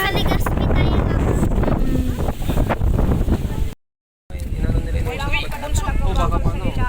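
Strong typhoon wind buffets the microphone during Typhoon Kristine, a loud continuous roar with gusty rumble, briefly cut out midway, while people talk over it.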